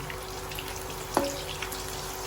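Thai omelette frying in deep oil, a continuous soft crackle and sizzle with one sharper pop midway, close and steady, alone without voices.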